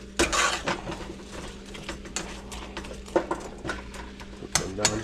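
Apple pie filling stirred in a pot, with a spoon clinking and scraping against the metal in irregular taps and rattles, fairly quiet and close, with no talking.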